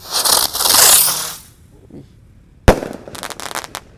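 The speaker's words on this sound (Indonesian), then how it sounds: "Lanjut kita nyalakan Ski Cruiser guys. Roman Candle berputar." Roman candle firework (Ski Cruiser type) lit outdoors, giving a long fizzing rush of sparks, then a sharp bang followed by a run of crackling pops.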